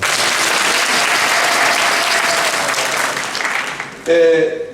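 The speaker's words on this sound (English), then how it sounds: "Can you clap hands for them?" Audience applause at an ordination Mass fills a church as a dense, steady wash of clapping for about four seconds, then cuts off abruptly as a speaker's voice takes over.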